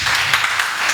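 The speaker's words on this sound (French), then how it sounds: "Acclamons pour la gloire de Dieu" A church congregation applauds for the glory of God in a short, steady wash of clapping, even and sustained over a brief moment.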